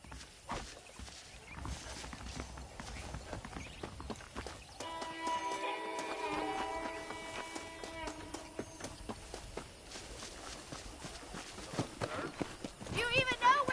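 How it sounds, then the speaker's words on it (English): Horses clip-clopping in the video game Red Dead Redemption, a run of quick hoof beats alongside game music and character dialogue. "The horses are saddled up over here."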